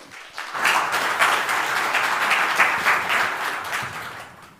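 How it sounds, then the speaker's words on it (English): A PyCon AU 2025 conference audience applauds a presenter at the start of a talk; dense, steady clapping from a large crowd, loud and continuous for several seconds, rising after a brief quiet start. "Big round of applause, please."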